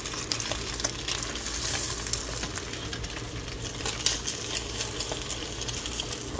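A cheese omelet sizzles steadily in a hot pan while a plastic spatula works around the edges to loosen it, in a diner-style kitchen. The frying is continuous and close, with faint scraping and light clicks.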